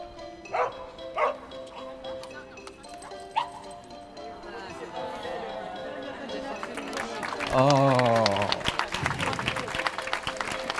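Spectators at a dog obedience stay contest in Lyon burst into applause for a dog's clean hold, with a dog barking and yipping nearby and people talking throughout.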